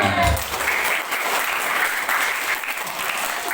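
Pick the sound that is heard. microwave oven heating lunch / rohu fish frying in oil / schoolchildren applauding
schoolchildren applauding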